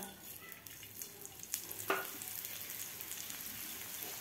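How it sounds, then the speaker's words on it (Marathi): Roasted chickpeas and coriander seeds frying in a little oil for a village-style bitter gourd curry, a soft steady sizzle with a few stirring scrapes near the middle, no talking. "थोडंसं तेल टाकून फुटाणे आणि धने अगोदर भाजून घ्यायचे आहेत।"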